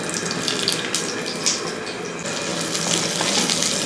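Small onions dropped into hot coconut oil for Kerala ulli theeyal give a steady, close hiss and crackle of frying, continuous throughout with no talking.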